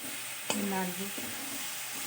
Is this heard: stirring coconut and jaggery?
yes